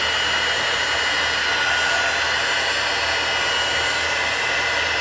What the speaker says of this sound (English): I am going to use my Stampin' Up! Heat gun and go ahead and emboss this